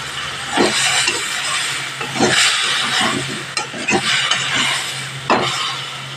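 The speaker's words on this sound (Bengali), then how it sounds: "দিয়ে ভালোভাবে কষিয়ে নিতে হবে, যাতে কাঁচা গন্ধ না বেরোয়।" A ginger, garlic, chilli and onion paste sautés in a pan, with loud sizzling broken by repeated scraping stirs of a spoon or spatula, close up and with no voices.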